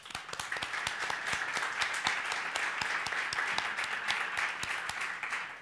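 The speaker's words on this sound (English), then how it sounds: "we should give a big round of applause to Elena Foster." A book launch audience gives a round of applause, with individual claps clearly distinct in a steady, moderately quiet patter lasting several seconds.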